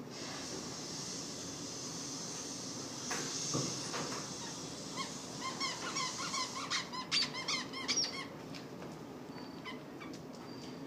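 Squeaking dog toy heard during a training session with a nervous dog, giving a run of short, sharp squeaks that cluster toward the end over steady background noise, with no talk.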